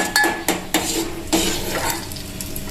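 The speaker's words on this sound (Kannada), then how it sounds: "ಗೋಡಂಬಿ ಹುರಿತಾ ಇದ್ದೀನಿ" Cashews roast in a pan for kheer, with a few sharp metal ladle knocks and scrapes over a soft, steady sizzle, close and fairly loud, and no one speaking.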